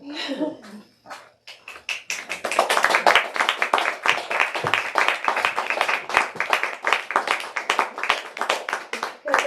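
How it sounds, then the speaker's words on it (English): Applause from a crowd that starts as a few scattered claps, then swells into steady, dense clapping that carries on loudly to the end. "another round of applause"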